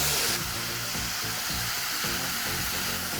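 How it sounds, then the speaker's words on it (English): Loud, steady sizzling from tofu frying in a hot pan, with a soft scraping as it is stirred around. "That sizzle is just fabulous."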